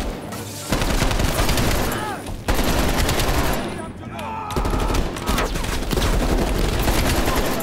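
In the Call of Duty: Black Ops Cold War campaign, loud, dense gunfire rattles in sustained automatic bursts with brief gaps, and someone talks over parts of it.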